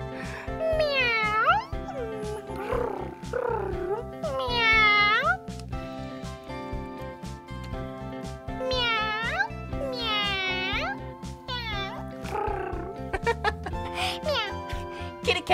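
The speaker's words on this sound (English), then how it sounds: "I'm thinking of an animal. Yeah. Let's make the sound of it. Meow." A cat meows again and again in drawn-out, rising and falling calls, heard over a steady musical backing with soft tones.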